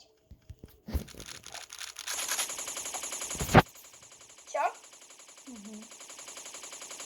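Gunfire in a PUBG-style shooter video game: a few sharp single shots, then a dense burst of rapid automatic fire lasting over a second, with players talking over the game sounds.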